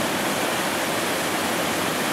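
The Fotinovo waterfalls near the village of Fotinovo pour in a loud, constant, broadband roar of rushing water, steady and unbroken on a cloudy day.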